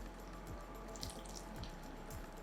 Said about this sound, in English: we are going to pour our syrup on it